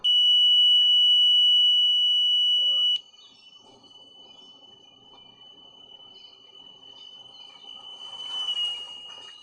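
A steady, piercing, high-pitched tone from a Doppler effect animation sounds loudly for about three seconds, then continues much fainter beneath light background noise.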